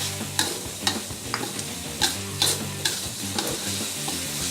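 Spice paste for red fish sizzles and fries in a pan, with a spoon stirring and scraping in repeated sharp strokes over a continuous crackle.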